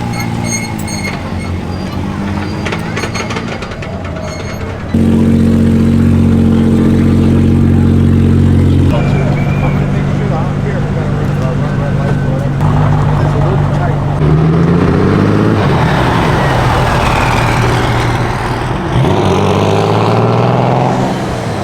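A diesel Lamborghini Gallardo at a gas station during SEMA 2023, its engine droning and rising in pitch as it revs, loud and close, with people talking over it.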